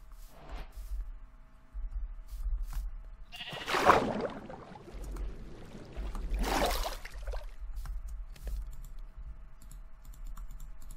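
Sheep in Minecraft bleat over soft, steady computer keyboard tapping, with two louder swooshing bursts of game noise standing out along the way.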